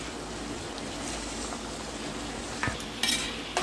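Mashed eggplant stirred into softened tomatoes in a hot pan for a spicy Maharashtrian bharit gives a steady, close frying hiss, with a few sharp spatula scrapes near the end.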